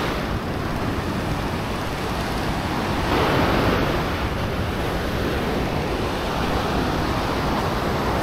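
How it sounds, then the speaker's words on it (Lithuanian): A stormy sea surges and roars as a continuous, loud wash of surf, swelling in the middle, with wind buffeting the microphone and no voices. "Bet jūra labai audringa."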